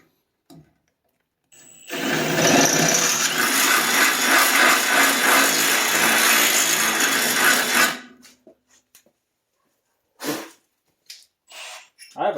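A power drill bores holes in a car for Myers Competition Mean Lean mounts, whining loud and close for about six seconds before cutting off, then giving short bursts.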